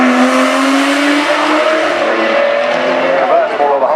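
An Aston Martin climbing the hill at the 2019 Goodwood Festival of Speed, its loud, close engine holding a strong sustained note that rises steadily in pitch as the car accelerates past.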